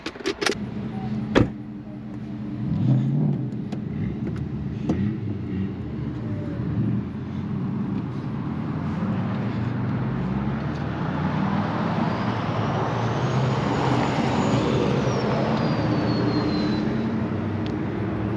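Engine of a 2001 pace car tribute Corvette runs close by with a steady, deep, throaty rumble that holds level throughout, with no one speaking.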